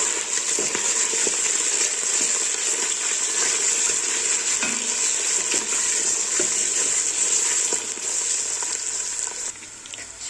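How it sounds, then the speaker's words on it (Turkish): Tomato paste frying with meat in a pot, a steady, loud sizzle and crackle with occasional stirring sounds, continuous throughout and without any talking. "Şimdi içerisine salçamızı ekliyorum. Ve kavuruyoruz."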